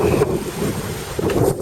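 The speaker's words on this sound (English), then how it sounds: "More than enough wind for me." Strong wind buffeting the microphone aboard a sailboat under double-reefed mainsail and staysail, with a steady rushing roar and gusty surges over water and waves.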